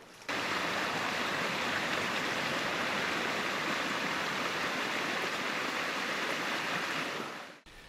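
A stream flowing at Little Glade Mill Pond along the Blue Ridge Parkway, a dense, steady rush of water heard up close and alone, unbroken from start to finish.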